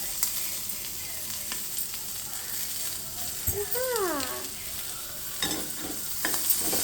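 Sweetcorn fry sizzles in a pan as it is stirred, giving a steady moderate crackle with scraping spoon strokes and a brief tonal squeak partway through, and no talking.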